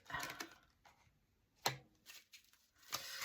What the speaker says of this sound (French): il y a une carte qui s'est retournée.